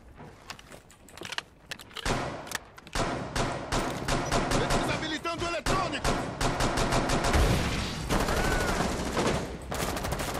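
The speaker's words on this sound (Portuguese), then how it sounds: "Foi de cima esse tiro." Rapid gunfire bursts crackle in the video game Rainbow Six Siege, with sharp machine-gun volleys and single shots that grow denser and louder toward the end, mixed with faint in-game clatter.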